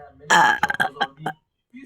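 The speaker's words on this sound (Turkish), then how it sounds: "Geğirdim part 4" A loud, close burp with a drawn-out, croaky stutter, followed by a few shorter gulping bursts.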